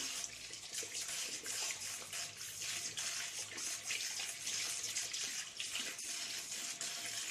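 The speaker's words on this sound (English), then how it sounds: "So we rinse our hands well under running water." Tap water runs steadily into a sink while hands are rinsed under it, a continuous close splashing hiss with small shifts as the hands move through the stream.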